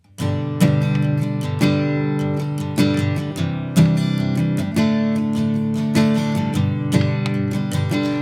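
Acoustic guitar strummed in a steady rhythm for a song, the second down strokes accented harder than others, bright and close with sustained ringing chords.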